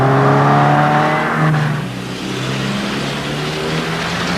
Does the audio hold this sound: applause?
no